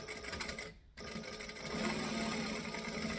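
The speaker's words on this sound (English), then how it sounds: "So with my slip pocket, I am just going to top stitch the top edge" A sewing machine top stitches the top edge of a slip pocket, a fast steady mechanical whirring close up with a brief pause before running again.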